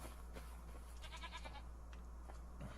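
Goats in Farming Simulator 25 give a short wavering bleat at moderate distance over a steady low hum, with a few faint clicks around it.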